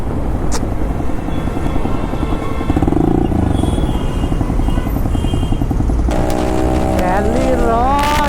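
A motorcycle fitted with an aftermarket exhaust on a Delhi road gives a loud, continuous engine roar that fills the whole stretch, with voices underneath and a rising, wavering tone near the end.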